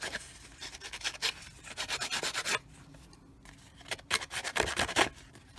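Steady rasping strokes of ripped paper edges being rubbed to soften them, close and fairly loud, in quick repeated bursts with a short pause before resuming.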